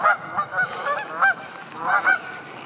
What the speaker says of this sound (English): I'm not seeing much of anything out here except for some pissed off geese